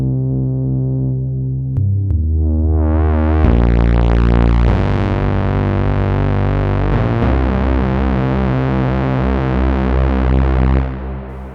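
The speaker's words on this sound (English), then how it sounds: "that just brings some nice modulation for those dirty low tones" Distorted Reese-style synth bass played on a FOURM synthesizer, dirty low tones with detuned, modulated throbbing and chorus-like phasing, changing notes across a sustained loud line with no talk.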